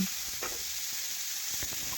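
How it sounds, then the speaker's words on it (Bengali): Soft, steady sizzling of steamed vegetables frying in hot oil, with a few light scrapes and clinks of stirring. "ভাপিয়ে রাখা সবজি দেখুন তেলের মধ্যে দিয়ে দিলাম"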